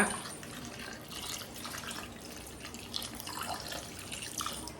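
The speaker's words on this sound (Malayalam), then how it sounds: "വെള്ളം ഒഴിച്ചു കൊടുക്കുക" Water is poured into a pan of curry seasoned with tamarind and salt, a faint, continuous splashing trickle heard close by in a quiet home kitchen.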